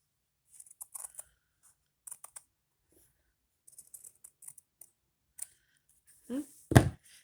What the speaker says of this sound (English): I just like the sound that it makes. Scissors and fabric together.